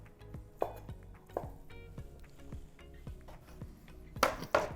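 Knife blade repeatedly striking a cutting board while cooked chicken is cut for chicken salad, a steady series of close, sharp taps with a couple of louder clatters near the end, no talking.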